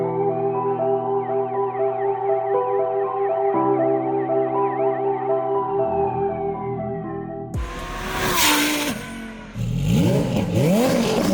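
A customer car fitted with an aftermarket exhaust system revs loudly, with a rising and falling engine roar in the later part after a long, steady tonal drone, close and alone with no talk.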